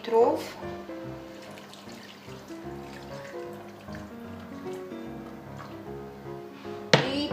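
About 500 ml of water is poured from close by onto pulled pork in a home kitchen, a steady moderate stream lasting several seconds over a low tonal background.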